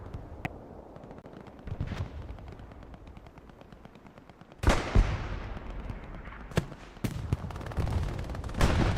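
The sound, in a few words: half-track vehicle exploding in a video game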